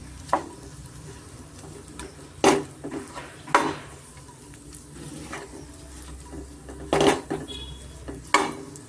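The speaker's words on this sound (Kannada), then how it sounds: "ಇವಾಗ ನಾನು ಖರ್ಜೂರ ಖರ್ಜೂರನ ಚೆನ್ನಾಗಿ ನಾನು ತುಪ್ಪದಲ್ಲೇ ಸ್ವಲ್ಪ ಮಿಕ್ಸ್ ಮಾಡ್ಕೊತೀನಿ" Dates being stirred in ghee in a pan for homemade dry-fruit laddu, with a utensil scraping and clinking against the pan in a few distinct strokes over a soft, steady sizzle.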